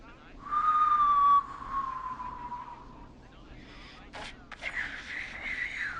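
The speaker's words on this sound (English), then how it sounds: "He's whistling" A clear whistled tone from a man in the video game Killer Frequency rises and then slides slowly downward, followed by a brief burst of noisy clatter and a hissing rush.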